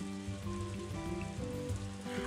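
Steady rain pours down in the farming game Story of Seasons: A Wonderful Life, a continuous hiss running beneath layered game music for the whole stretch.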